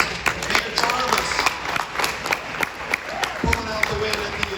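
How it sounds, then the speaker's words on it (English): Scattered hand claps from a modest audience at a city government open house, uneven and sparse rather than a full ovation, with a voice speaking over them. "So everyone, join me in a round of applause."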